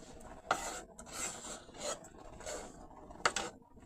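A spoon stirs red beans and wild rice in a pot, giving soft rasping scrapes in a loose rhythm of several strokes, fairly quiet and close with no talk.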